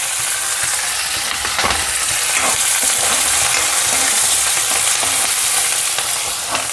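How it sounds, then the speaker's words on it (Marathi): Curry leaves, finely chopped onion and green chilli sizzle in hot oil in a pan as a tempering for matki usal, a loud continuous frying crackle with occasional stirring scrapes and no talking. "खमंग फोडणी बसलेली आहे छान"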